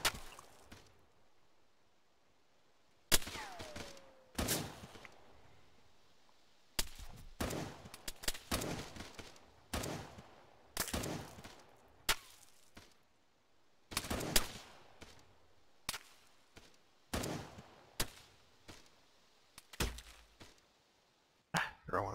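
In a video game, sharp gunshots ring out in irregular bursts and single cracks, some loud and close, with quiet gaps between them.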